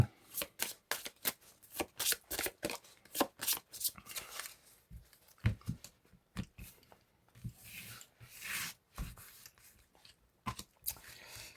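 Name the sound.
shuffling cards to draw five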